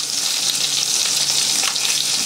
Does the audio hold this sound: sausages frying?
yes